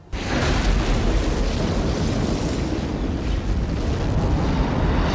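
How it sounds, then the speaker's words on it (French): Mother ship exploding in the film Independence Day: a huge, sustained roaring blast of dense broadband rumble and crackle that stays loud and steady for about five seconds, with no voices. "le vaisseau mère explose dans un panache bruyant et joliment bleuté"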